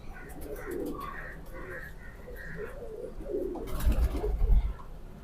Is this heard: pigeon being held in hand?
yes